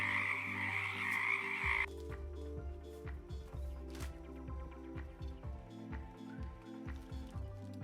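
A frog resting on a cut banana rack gives a steady run of low, rapid, knocking croaks close up, with a high buzzing background chorus that cuts off early, leaving irregular clicky croaks alone.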